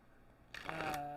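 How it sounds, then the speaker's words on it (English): Tarot cards riffle in a quick, close, soft shuffle that starts abruptly after a moment of quiet and runs for about half a second. "I'm shuffling the cards right now as we speak."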